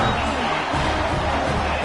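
Stadium crowd in an NCAA college football video game roars steadily and loudly after a touchdown, a dense, sustained wall of cheering with no break.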